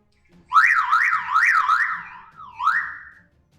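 A car alarm speaker driven by a hand-cranked generator wails in rising and falling sweeps, loud and close, the siren sagging and wavering as the cranking slows before one last sweep fades out.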